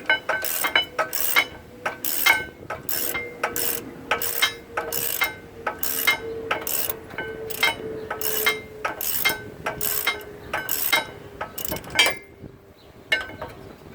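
A ratchet works the long rear brake caliper screws out of a 2014 Acura MDX, clicking in steady bursts for about fourteen seconds. The close metallic clicking stops briefly between strokes, and no one speaks.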